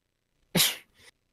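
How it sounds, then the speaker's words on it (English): A single close sneeze, a sharp burst followed by a brief softer trailing breath, otherwise silent. "You sneezed."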